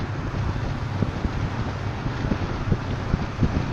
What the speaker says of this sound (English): You kind of get an idea of how minimal the wind is at highway speed